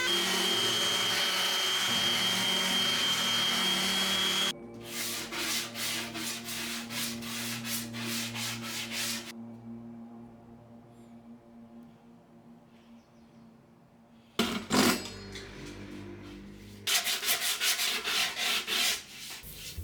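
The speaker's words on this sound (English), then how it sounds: "I gave this a round over and sanded the edges." Edges of a wooden piece are sanded after a round-over, with a power sander whirring and rubbing in bursts that stop and start, the machine loud up close and broken by a quieter stretch in the middle.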